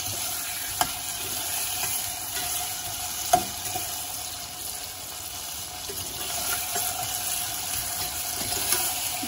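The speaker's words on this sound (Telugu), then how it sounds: "పాటు కార్న్స్ కూడా యాడ్ చేస్తూ ఫ్రై చేసుకోవాలి. కొంచెం బ్రౌన్ కలర్ అయ్యే వరకు ఫ్రై చేస్తున్నాం." Corn and vegetables for a pulao fry steadily in a pan, a soft continuous sizzle with a few sharp clicks of stirring, quiet and close with no voices.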